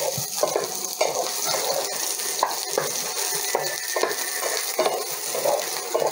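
Onion sautés in a hot pan with a soft continuous sizzle, broken by repeated rhythmic scrapes and clicks of a spatula stirring.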